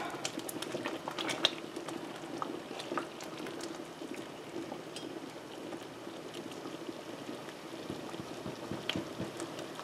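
Strawberry preserves made without pectin bubble at a rolling boil on a stove, a thick, steady burble with frequent pops and spatters, close and continuous with no voices.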